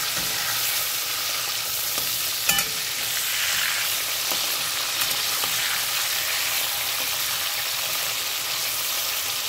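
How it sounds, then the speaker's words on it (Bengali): Katla fish pieces frying in hot mustard oil in a wok, a steady close crackling sizzle with occasional sharper pops and spatters, no voices. "সর্ষের তেলে আমি মাছটাকে ভালো করে ভেজে নেব"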